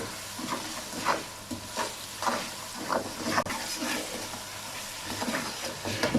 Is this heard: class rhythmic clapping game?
no